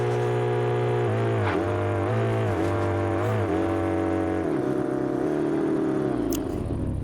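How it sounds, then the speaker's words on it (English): Honda VTEC engine in the Car Parking Multiplayer video game revs steadily, its pitch rising and dipping in repeated swells before settling into a higher sustained whine, loud and continuous with no talk. "Still got the VTEC kick, but it has a unique sound."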